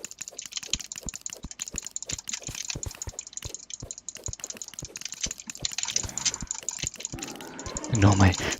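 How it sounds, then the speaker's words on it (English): Rapid, furious mouse clicking during Terraria play, a steady stream of sharp close clicks running throughout under a faint game backdrop, with a louder burst near the end. "Ignore my furious clicking."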